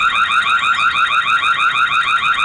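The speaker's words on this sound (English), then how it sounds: "This will actually set the alarm up to be triggered with movement." Alarm siren from a Tapo C645D security camera, a loud continuous warbling electronic tone that sweeps up and down in steady rapid cycles, heard alone and close.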